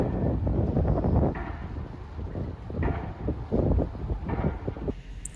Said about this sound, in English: We are running the wing engine